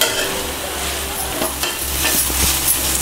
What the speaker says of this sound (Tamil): இந்த வல்லாரக்கீரையோட இலை சுருங்குற அளவுக்கு வதக்கினா போதும்.